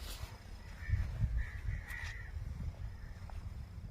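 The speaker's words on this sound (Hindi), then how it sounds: "कौवे भी बोल रहे हैं।" Crows caw a few times at a moderate distance over a low rumbling outdoor background, the calls short and harsh, spaced irregularly.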